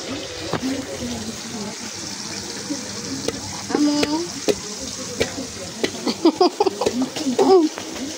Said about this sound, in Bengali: মাছগুলো বসাই দিছি